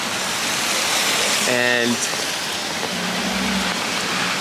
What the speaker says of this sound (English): didn't realize it was gonna be raining this hard